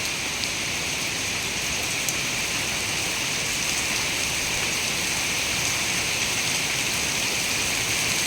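Heavy rain falls steadily over farmland, a loud, unbroken wash of hiss with no pauses and no voices.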